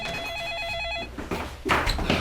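An electronic telephone ring chirps in a fast warbling burst for about a second in an indoor drama scene, followed by soft handling thumps and movement as the call is about to be answered.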